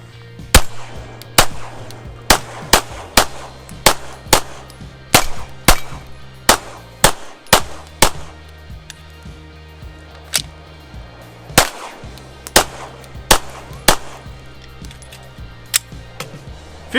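A Zev OZ9 pistol fires a long string of sharp, loud single shots outdoors at a fairly even pace, roughly two every second, with brief pauses between some shots.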